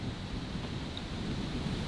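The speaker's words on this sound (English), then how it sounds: "It's quite windy today though, isn't it?" Wind on a golf course rushes steadily across the microphone as a continuous broadband roar, loud and even, with no talk.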